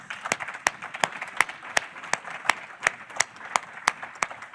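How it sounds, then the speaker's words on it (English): A few people clap slowly and unevenly at a governance fireside chat, distinct sharp claps spaced about a third of a second apart rather than a full ovation. "Can we clap for that, please?"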